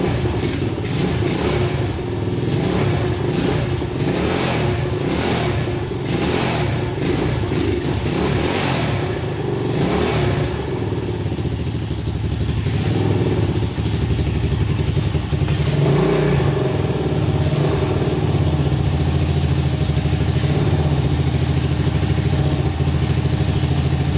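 A Honda 200X engine, freshly repaired, runs nearby at a steady idle, revving up and down several times with a rough, throaty rumble and no knocking.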